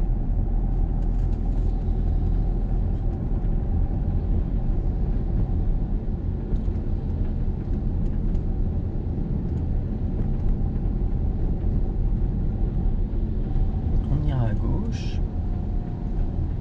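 A car's engine drones steadily from inside the cabin during a driving lesson, with a continuous low rumble as it speeds up. People talk over it throughout.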